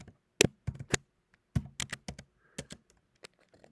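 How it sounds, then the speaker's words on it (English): Keystrokes on a computer keyboard while entering text into an email form, a few quick bursts of crisp taps with short pauses between them, close and fairly quiet, with no talking. "And I'm going to type in"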